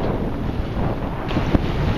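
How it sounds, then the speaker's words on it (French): Steady wind rushes over the microphone while a sailboat runs along the coast in a winter breeze, with water and hull noise beneath and a brief louder gust or slap near the end. "le vent nous fait subir ces sautes d'humeur"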